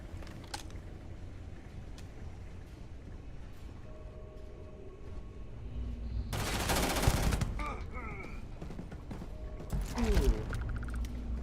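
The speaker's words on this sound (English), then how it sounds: "We're gonna go shoot him before we explore." Gunfire in the video game Starfield comes as a burst of rapid shots in the middle and a second shorter volley near the end, over a quiet game background with scattered effects.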